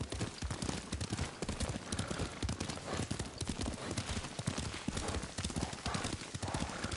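Rapid, steady clip-clop of horse hooves at a trot in the video game Ghost of Tsushima, close and continuous, with a faint whinny and occasional voices underneath.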